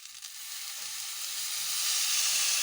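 Beef stock is poured into a pan of browned oxtail with tomato paste, setting off a loud, continuous sizzle and hiss. The sizzle builds in strength as the liquid hits the hot pan, and no one speaks.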